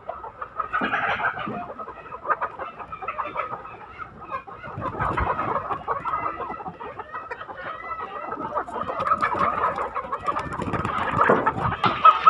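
Young laying hens cluck and squawk steadily as they are caught at night on a farm, with a dense, continuous flurry of close bird calls over rustling and handling noise throughout.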